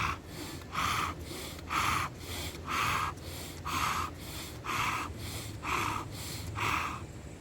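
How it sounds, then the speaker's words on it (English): Forceful breathwork breathing, drawn in through the nose and pushed out through the mouth, heard as seven rhythmic, evenly spaced breath cycles, each a loud rushing whoosh, close and alone without talking. "breathing in through the nose, out through the mouth"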